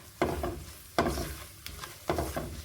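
A spoon stirs an egg mixture with cornflour in a bowl, giving three distinct scraping strokes with quiet pauses between them, close up and soft.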